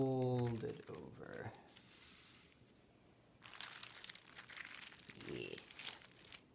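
Glue-covered paper for a stained-glass Earth craft gets folded over, giving soft crinkling and crumpling in bursts. A short tone opens the clip, and a quieter gap separates two louder rustling stretches near the microphone.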